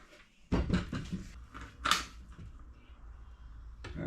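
A soft-close cupboard door on handmade furniture in a VW Transporter T4 campervan shuts with a few close wooden knocks and creaks, then a slower damped settle and one more light tap near the end.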